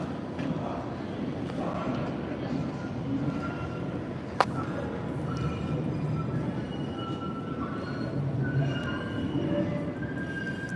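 A Red Line subway train sits idle during switching operations while an operator preps the cab for southbound service, giving off a low rumble and hum with occasional squeals, clanks and one sharp metallic bang midway, all moderately distant.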